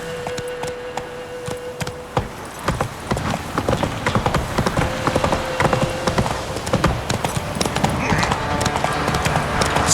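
Hooves pound in a brisk gallop as the horse Roach runs in The Witcher 3: Wild Hunt in the Highlands, a dense, fast clip-clop close by over ambient game music, with a faint tonal note early on.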